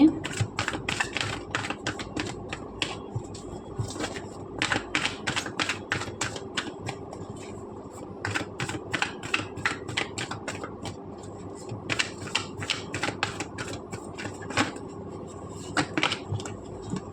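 Tarot cards being shuffled and tapped, giving rapid, repeated crisp clicks and riffling bursts throughout, fairly close, with a voice talking underneath in places.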